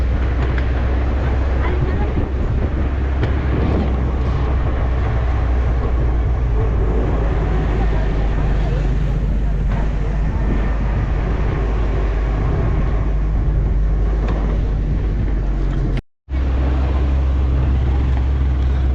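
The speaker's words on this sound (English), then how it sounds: "this is my first experience on riding 4x4 vehicle in off-road" A 4x4 vehicle drives off-road on rural land in Botolan, Zambales, its engine and tyres making a steady loud rumble that continues unbroken, with one brief dropout near the end.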